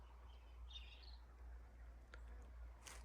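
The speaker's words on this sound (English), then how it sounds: "And you can hear the birds." Faint birdsong outdoors: a short warbling call early on and a few distant chirps later over a low steady hum.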